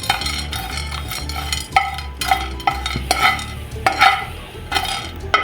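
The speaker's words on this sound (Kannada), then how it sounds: "ಇದಷ್ಟನ್ನು ಹಾಕಿ ಇದು ಕ್ಲೀನಾಗಿ ಸ್ವಲ್ಪ ಫ್ರೈ ಮಾಡ್ಕೊಳ್ಳೋಣ. ಮೀಡಿಯಂ ಫ್ಲೇಮಲ್ಲಿ ಇಟ್ಕೊಂಡೆ ಫ್ರೈ ಮಾಡ್ಕೊಳ್ಳಿ." Cumin seeds and black pepper fry over a medium flame in a pan, with a soft sizzle beneath repeated scraping and clinking strokes of a spoon stirring at an uneven pace, close by.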